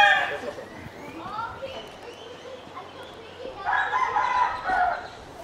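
Rooster crowing at a family gathering before a cockfight, two crowing calls rising out of busy background voices and shouts, one early and a louder, longer one near the end.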